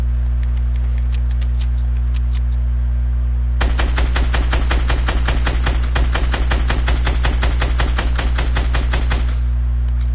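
Rapid bursts of video game gunfire crackle out in a fast, uneven volley lasting several seconds, sharp and close over a low steady hum, with no talk.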